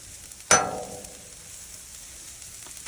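Onions hit a hot Blackstone griddle with a sudden sharp sizzle that fades over about a second, then a second burst of frying starts at the end, with no talking.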